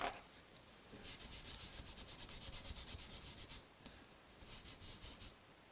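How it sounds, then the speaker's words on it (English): An embossing buddy rubbed back and forth across card stock, giving a run of quick, soft, rhythmic rubbing strokes close by, a brief pause, then a few more strokes, with no talking. "I'm going to go ahead and get my embossing buddy"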